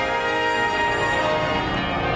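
Church bells ring in the City of London, a dense sustained peal with overlapping tones filling the whole moment, loud and steady with no voices.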